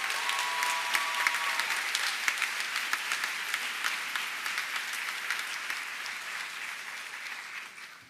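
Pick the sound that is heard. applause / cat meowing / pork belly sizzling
applause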